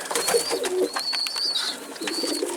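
Pigeons cooing close by at a loft with young birds, a few soft repeated coos alongside chirpy bird calls over steady background, with no talking.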